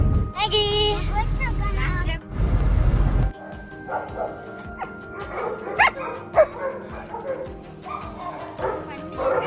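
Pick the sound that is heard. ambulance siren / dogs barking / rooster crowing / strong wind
dogs barking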